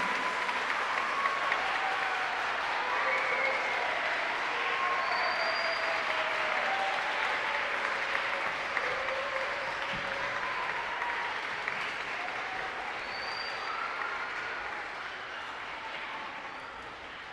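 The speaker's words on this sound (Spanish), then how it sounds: "Vamos a darle un fuerte aplauso dominicano al Peabody Renaissance Ensemble." An audience applauds at an educational Renaissance music concert, a steady, dense wash of clapping that holds for the whole stretch and slowly fades a little toward the end.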